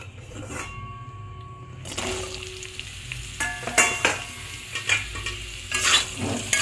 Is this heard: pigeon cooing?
no